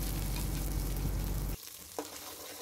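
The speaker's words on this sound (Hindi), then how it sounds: "जो हमने प्याज का पेस्ट बनाकर रेडी किया है उसको डाल देंगे तेल में" Onion paste hitting hot oil in a pan for a village-style fish curry, a loud dense sizzle that abruptly drops to a quieter crackle, followed by a brief clink.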